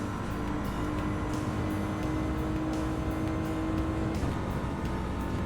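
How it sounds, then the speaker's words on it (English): A BMW M4 GT3 race car engine drones steadily in rFactor 2, a continuous close, even-pitched hum with light mechanical texture and no pauses. "let's take the BMW for a spin"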